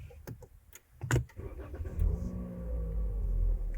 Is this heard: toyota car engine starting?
yes